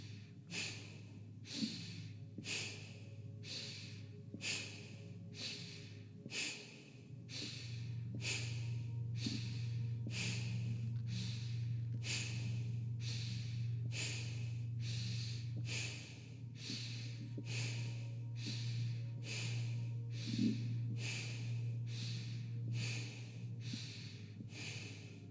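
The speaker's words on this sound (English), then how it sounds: "So breathing in through the nose. Breathing out through the nose. A sharp breath in, 3/4. Sharp breath out." Sharp, rhythmic breaths in and out through the nose during a guided breathwork session, repeating quickly and evenly over a steady low hum, with no talking.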